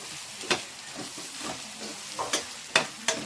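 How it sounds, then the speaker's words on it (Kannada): Onions are stirred in a hot pan for an okra gravy, a soft steady sizzle broken by several sharp spatula scrapes and taps at uneven intervals, close and fairly loud. "ಈಗ ಚೆನ್ನಾಗಿ ಮಿಕ್ಸ್ ಮಾಡ್ಕೊಳ್ಳಿ"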